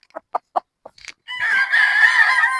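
Gamefowl roosters on a game farm cluck in a few short, sharp notes. A loud, close crow then follows and carries to the end.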